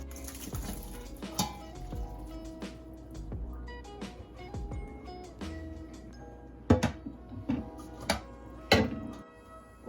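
Metal pan and utensil clinks while straining liquid from cooked beef for sopes, with scattered sharp clanks and scraping, louder knocks near the end, no talk.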